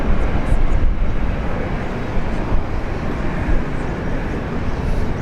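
Singapore Airlines flight 241 landing at Sydney Airport, heard as a steady, loud broadband jet roar with a low rumble that holds throughout the five seconds, with no talk over it.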